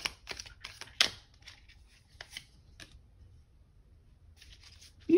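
Oracle cards are shuffled and drawn with quick, close papery riffles and flicks in short bursts, then a quieter stretch before a final card snap.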